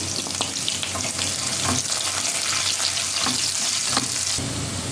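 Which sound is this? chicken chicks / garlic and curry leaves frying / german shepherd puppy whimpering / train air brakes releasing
garlic and curry leaves frying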